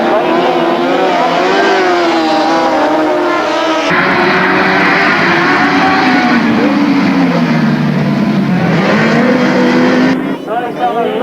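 Grasstrack racing motorcycles howl past loud and close, their engine pitch rising and dipping as they corner before dropping off at the end, with a commentator's voice running over them.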